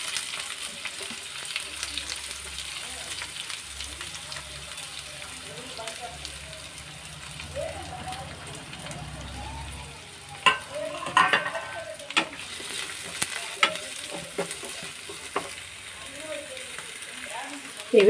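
Chopped onions fry in a pan for a drumstick-leaf (munagaku) curry, with a steady low sizzle broken by scraping stirs and a few sharp utensil clinks toward the end, while someone talks nearby.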